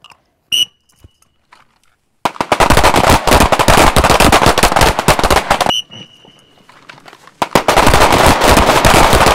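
Pistol rounds fired while the shooter moves left during shooting-on-the-move practice, loud and close, in two long dense bursts of rapid cracks with a beeping timer tone before each, and no talk.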